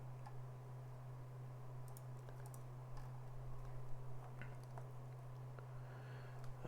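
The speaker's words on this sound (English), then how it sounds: "Let me type a little summary." Light, irregular clicks of keys on a computer keyboard as a short summary is typed, close and soft against a constant low electrical hum, with no talking.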